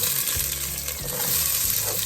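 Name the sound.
onions and garlic sizzling in olive oil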